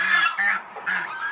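Mother duck honking harshly while attacking to protect her grown duckling, a few loud, close, raspy calls in quick bursts with brief gaps.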